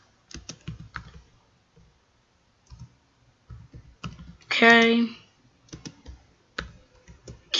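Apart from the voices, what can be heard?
typing on computer keyboard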